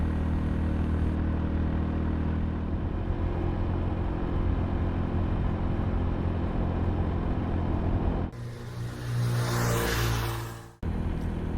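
A Honda Rebel 250 single-cylinder motorcycle cruising on a highway at about 80 km/h, a loud continuous engine drone with heavy wind rumble, ending in a brief louder whooshing pass.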